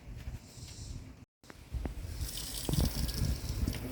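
Water gushes and splashes while rinsing a headlight during restoration. The close hiss of flowing water cuts out briefly, then returns more loudly with spattering.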